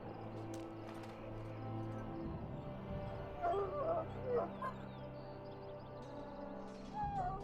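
A dog in the video game Dragon Age: Origins whimpers and yips in short bursts over a low ambient music bed, with a few faint thuds.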